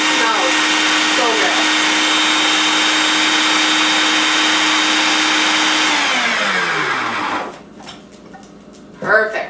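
Blender whirring steadily as it purees a creamy cauliflower and cream cheese dip, loud and continuous, then winding down and stopping near the end, leaving faint clinks behind.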